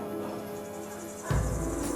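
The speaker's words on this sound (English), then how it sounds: "the constant droning of cicadas give the forest a primeval feel" Insects drone steadily in a Costa Rican rainforest at midday, a constant high buzzing band that continues throughout. Partway through, a louder low rumble sets in beneath it and persists to the end.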